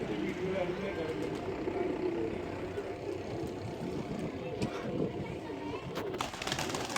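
Pigeons land on a rooftop and coo softly over steady background noise after a long flight, with someone talking over them.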